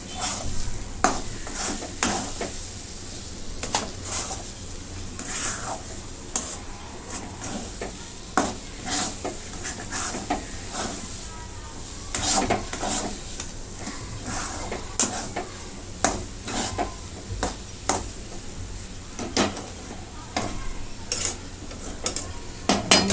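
Gram flour pithla with salt is stirred in a pan, bringing frequent spoon scrapes and taps against the metal over a constant low sizzle, without speech.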